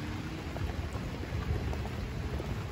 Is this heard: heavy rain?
yes